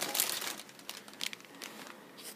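Shredded paper is crinkled and rustled by hand while decorating a shabby chic gumball machine, soft close crackling in irregular bursts, quiet and without voices.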